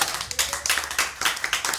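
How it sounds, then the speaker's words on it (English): An audience applauds: rapid, irregular hand claps from several people, fairly close, in a short burst with no talking. "I've gotten the claps a lot of times in my life, and this is the best time."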